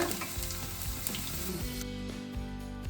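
Stuffed brinjal, an ennegai palya preparation, fries steadily in hot oil with a dense, continuous sizzle and crackle, close and fairly loud with no voices present.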